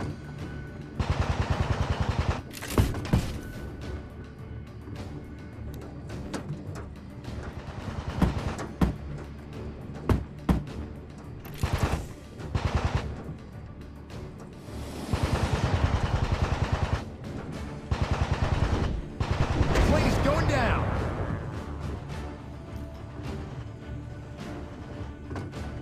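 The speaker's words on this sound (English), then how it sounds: "Let's use machine guns." Bursts of machine gun fire from a WW2 aircraft in a VR combat game, coming in several separate volleys over a steady engine drone, loud and close with short pauses between strafing runs.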